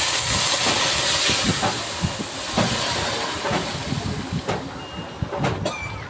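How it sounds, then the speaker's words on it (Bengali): Cumin seeds, bay leaf and dried chili fry in hot oil as a tempering for dal, giving a loud, steady sizzle close by with scattered sharp pops and crackles. "ফোড়নটা ভেজে নিচ্ছি ডালের, জিরে তেজপাতা শুকনো লঙ্কা দিয়ে ফোড়নটা ভেজে নিয়ে এবার ডালটা ঢেলে দেব"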